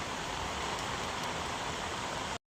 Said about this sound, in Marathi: भरपूर पाऊस पडते